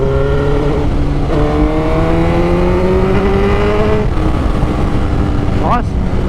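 A 2007 Suzuki GSX-R 1000 sport motorcycle accelerates while being ridden, its engine climbing loudly through several smooth gear shifts over steady wind noise.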